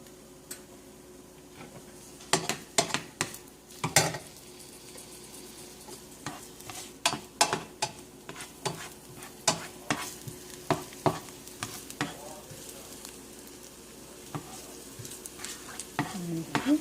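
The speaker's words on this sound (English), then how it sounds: "So now we're going to put the garlic and the onions." Garlic and onions frying in cooking oil, a low constant sizzle broken by frequent sharp clacks and scrapes of a utensil stirring in the pan, close and without talk.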